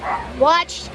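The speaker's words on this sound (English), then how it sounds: "that is my dog in the background barking because he's a little jerk at times" A dog gives a short yip-like bark nearby, brief and sharp, overlapping a person's speech.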